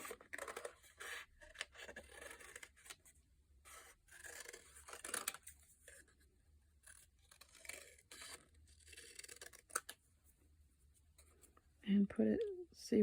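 Scissors snip out a paper shape for a bird craft, producing quiet, intermittent cutting and scratching sounds close by, with a person talking softly in between.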